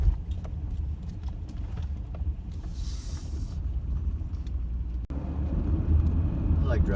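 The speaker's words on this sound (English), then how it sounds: "I like driving in the snow." A minivan driving through a winter snowstorm near Rocky Gap State Park, a steady low road and engine rumble with wind noise and a burst of hiss partway through.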